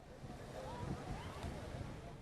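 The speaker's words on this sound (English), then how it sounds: "अभी काफ़ी लहरें चल रही हैं यहाँ पे" Sea waves rush and break on a rough day at a dangerous beach, a continuous broad surf wash with wind buffeting the microphone and a faint voice beneath.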